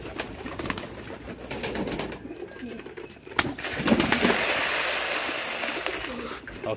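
Pigeons at a pigeon farm coo and flutter while feeding on wheat, a steady close chorus of soft calls with scattered wing and pecking noises that rises in the second half.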